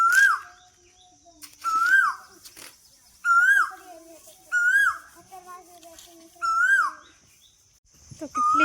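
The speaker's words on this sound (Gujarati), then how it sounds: "મસ્ત કોયલ બોલે" An Asian koel calls repeatedly from close by, its rising, whistled notes coming in regular bursts about every second and a half, with quieter chirps and faint background sounds between the calls.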